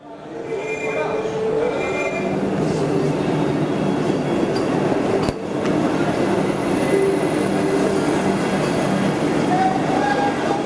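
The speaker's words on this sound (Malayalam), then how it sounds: "ഇന്ന് പുലർച്ചെ 4:30 ചെന്നൈയിൽ നിന്ന് പുറപ്പെട്ട ട്രെയിൻ ഉച്ചയ്ക്ക് 12:05 പാലക്കാടെത്തി" A Vande Bharat special train pulls into Palakkad Junction station. Its steady, loud rolling rumble runs through the whole stretch, with a brief sharp click midway and faint voices from the platform.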